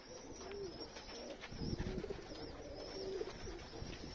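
Domestic pigeons coo softly during an evening feeding in cold, windy weather. Several low burbling calls come and go over a breezy outdoor background with faint rustling.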